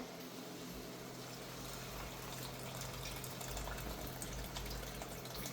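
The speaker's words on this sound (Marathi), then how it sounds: "मी हे गरम पाणी टाकते यात" Hot water pours steadily into a pot of dal, a continuous rushing gush with a low rumble underneath, constant in level throughout.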